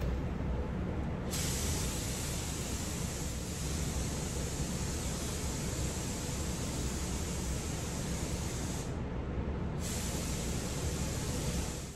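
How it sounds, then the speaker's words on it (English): A paint spray gun lays down a black pearl coat on a Toyota 4Runner, giving a steady, loud broadband hiss that runs unbroken, with brief breaks in the highest air rush near the start and around nine seconds. "Black pearl is very easy to spray, unlike some of the grays and silvers."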